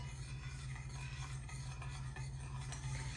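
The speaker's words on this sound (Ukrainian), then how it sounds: "Це все перемішуємо." Continuous scraping and swishing of a spoon stirring a thick oil-based marinade for mackerel in a bowl, steady and close over a low background hum.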